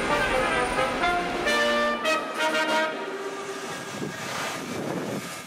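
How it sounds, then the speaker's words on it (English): Steam locomotive train standing at a platform before departure from Moscow, with a clear hissing and mechanical train ambience, tonal whistling sounds and clanks in the first half, fading into a softer rumble. "the romantic sound of steam engines lingers in the air"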